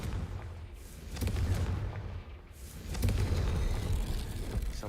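A Confringo blasting spell exploding in Hogwarts Legacy gives repeated booming blasts and crackling bursts, loud and rumbling in two waves with sharp cracks between.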